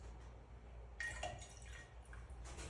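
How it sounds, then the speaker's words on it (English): Water poured into a natural dye bath for lac dyeing, heard as a short, quiet splash and trickle with a few drips over a low background hum. "So first I'm going to put a little bit of water."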